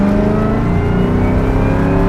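A 600-horsepower Ford Mustang pulls hard in third gear, its loud engine roaring steadily close up from inside the car for a couple of seconds, with no voices over it.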